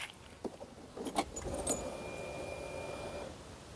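Keys jangle in a few short metallic bursts, close and fairly quiet, over a faint background hum.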